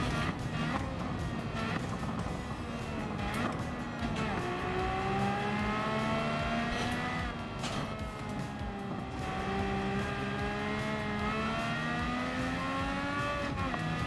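Race cars in Gran Turismo 7 drive on track, engines whining and rising in pitch as they accelerate, with several cars audible at once. The steady, loud engine drone runs throughout, with occasional gear-shift dips.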